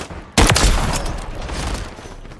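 Heavy magnum gunfire in Call of Duty MW3 bursts in suddenly with a loud near crack, then a few quick follow-up shots ringing out into a long, rumbling decay of battle noise.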